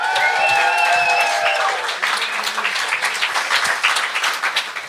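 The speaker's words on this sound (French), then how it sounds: "On applaudit tout le monde!" An audience at a live comedy show applauds warmly, with steady dense clapping that holds throughout. A brief sung or musical tone rises at the start, and a voice briefly speaks over it.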